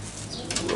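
Racing pigeons in a loft coo close by, with soft wing flapping and rustling throughout and slightly louder toward the end, without talk.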